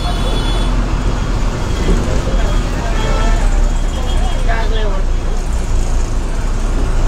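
A bus moves through road traffic in Kolluru village, a continuous rumbling engine drone with passing vehicles and a brief horn, while people talk nearby.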